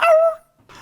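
A dog in The Last of Us Part II lets out a single loud, close bark with a whining, tonal edge that fades into brief quiet, followed by a faint rustle.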